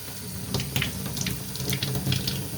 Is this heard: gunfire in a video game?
no